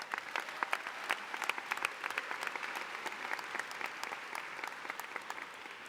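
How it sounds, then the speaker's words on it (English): A large audience at a high school graduation ceremony applauds the teachers, a steady, evenly sustained roar of clapping heard from some distance across a big hall, with a few louder claps standing out nearby. "Students, give your teachers one final round of applause."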